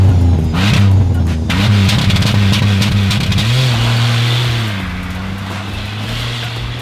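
A minivan built as a dirt-track muscle car for a van race revs its engine loud and close. The pitch rises and falls in rough surges, then settles into a steadier drone that eases off slightly toward the end.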